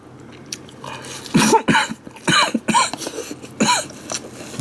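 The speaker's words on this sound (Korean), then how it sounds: "기침이 나와" Several harsh coughs in a row, close to the mic, after eating mayonnaise, with short pauses between bursts and no talking.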